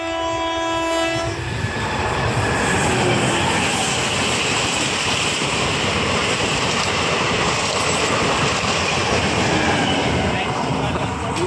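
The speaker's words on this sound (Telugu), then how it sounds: "గూడ్స్ రైలు పోతుంది." A goods train passes close by, its horn sounding as a steady tone at first, then a loud, continuous rumble and clatter of wagons over the rails filling the rest of the clip.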